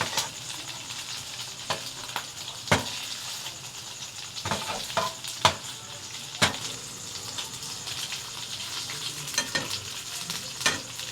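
Sardines frying and being stirred in a pan while they turn crisp, with a steady sizzle under repeated sharp scrapes and clacks of the stirring utensil, close and alone without talk.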